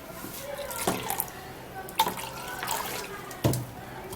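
Water is poured into blended tiger nut milk, giving a soft splashing trickle with a few louder plops and drips close by, over faint kitchen background noise.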